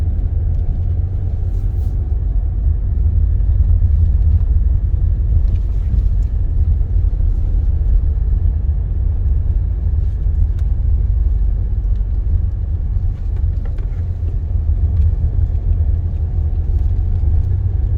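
A Tata Safari SUV climbs a steep slope in city mode, with a steady, loud, low engine and road rumble and some wind buffeting throughout.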